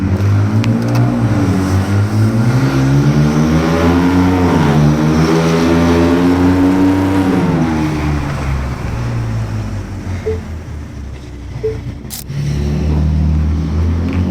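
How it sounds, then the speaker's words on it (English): Deep, steady engine rumble from the aftermarket Magnaflow exhaust of a 2025 Ford Ranger Raptor V6 pickup, loud and close, with a low drone that rises and falls as the revs change, then settles. "There's that rumble, there's that deep bass sound that everybody likes."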